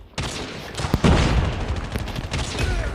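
Sniper rifle gunfire in the COD Mobile video game, sharp loud shots with booming reports amid dense battle noise and other gunfire.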